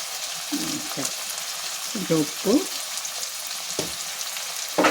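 Steady oil sizzle with spluttering bursts as ginger garlic paste fries with turmeric and salt, plus occasional scraping stirs in the pan.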